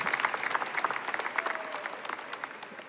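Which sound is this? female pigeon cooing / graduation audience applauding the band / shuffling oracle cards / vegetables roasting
graduation audience applauding the band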